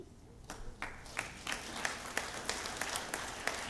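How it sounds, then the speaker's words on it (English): An audience at a school board of education meeting applauds track athletes, a moderate, continuous round of clapping with distinct individual claps popping out of the wash, heard at a slight distance without talk. "Another round of applause for our track athletes"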